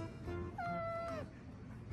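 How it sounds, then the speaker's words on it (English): A neighbor's cat gives one drawn-out, wavering meow over a low background hum, with a shorter call near the end. "So my neighbor's cat has no respect."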